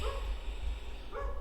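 A dog gives two short, muffled barks, one at the start and one near the end, over steady low rumbling background noise.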